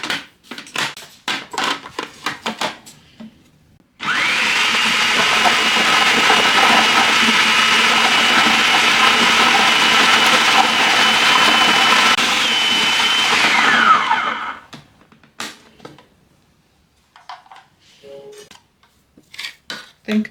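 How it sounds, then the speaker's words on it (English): A food processor grinds a fish fillet into a paste, its motor whirring loudly and steadily for about ten seconds before winding down, framed by clinks and taps of bowls and utensils before and after. "So into the food processor, I'm going to put my fillet, and then I process it."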